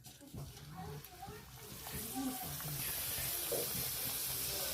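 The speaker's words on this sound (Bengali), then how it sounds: "তেলটা গরম হয়ে গেছে। এবার আমি লুচিগুলো ভেজে নেব।" Luchi puffed flatbreads dropped into hot oil set off a broad, steadily rising hiss of frying, and a voice speaks faintly over it near the start.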